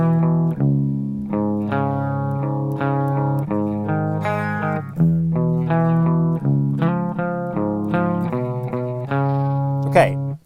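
Distorted electric guitar plays the verse riff of Nirvana's Heart Shaped Box, a steady repeating pattern of chugging low notes with effects, close and loud throughout with no talking, a brief higher scrape near the end.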